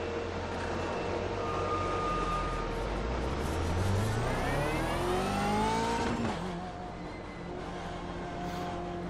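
BMW race car engine in iRacing at Brands Hatch, loud and continuous, rising in pitch as it accelerates through the gears with a shift near the end, then settling into a steady drone.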